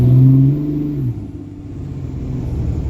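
A heavy pickup truck carrying a welder revs its engine while its tires spin on snow, a loud, close mid-low drone that eases after the first second and settles into a steady rumble.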